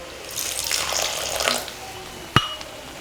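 Water poured from a vessel into potato masala for pooris: a brief, soft splashing pour lasting just over a second, followed by a single sharp clink of metal or glass.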